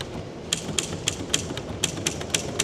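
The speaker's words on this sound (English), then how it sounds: "Tom Hanks typewriter." Tom Hanks typewriter keys struck at a fair, a run of about ten crisp, fairly close clacks in an uneven rhythm over low background murmur.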